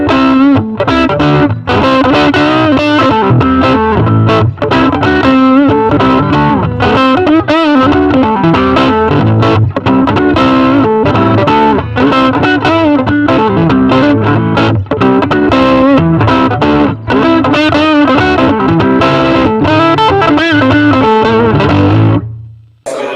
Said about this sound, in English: Finally, we tried Höfner's treble boost pedal.